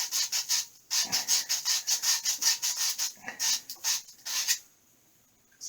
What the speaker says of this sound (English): How you clean the pipe, folks. Just a piece of sandpaper like that.